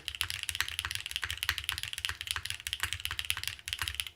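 Rapid, steady typing on a Keycult No. 3 mechanical keyboard, crisp clacky keystrokes in a quick continuous rhythm, close and fairly quiet with no speech.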